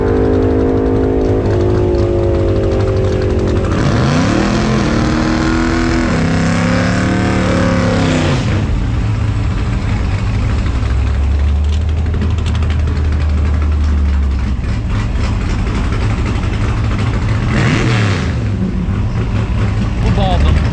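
A 1000-horsepower Jeep Trackhawk roars through a first-gear launch, its engine note climbing and shifting in pitch, loud and close with a constant heavy drone and faint talk underneath.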